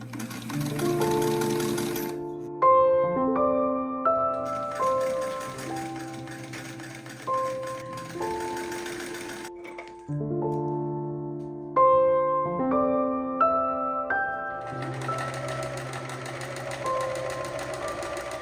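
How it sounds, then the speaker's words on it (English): A modern sewing machine runs zigzag stitches across thick foam bra cup panels, buzzing in several short bursts separated by brief pauses, close and fairly clear, with no voices. "zigzag stitch them, which is exactly what I'm doing using my slightly more modern machine to do that zigzagging stitch"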